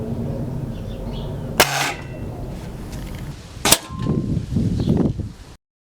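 Two sharp shots from a Webley Mk II Service air rifle fired at a target with an aperture sight, each a sudden crack standing out over steady background noise, followed by softer rustling handling sounds.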